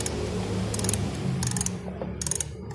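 A tool ratchets a plastic air filter cover tight on a Yamaha Mio 115 scooter, giving several short bursts of close, crisp clicking over a steady background hum.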